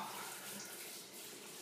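Water runs steadily from a tap while a dog is being washed in a shower, a continuous close hiss and splash with no talking.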